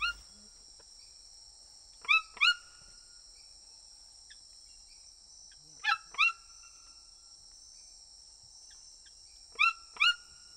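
A pet toucan gives paired sharp, croaking calls three times at regular intervals, fairly near, over a steady high insect drone with no talking.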